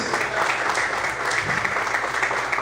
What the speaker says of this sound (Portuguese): Mais forte as palmas